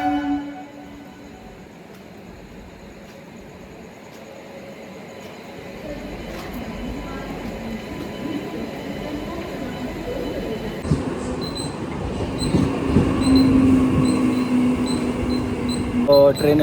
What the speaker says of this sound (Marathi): ट्रेन आलेली आहे आपली आता लोकल ट्रेन